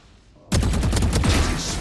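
Odin machine gun in Valorant opens up in a sudden loud sustained burst of rapid fire after a quiet moment, during a school esports league match.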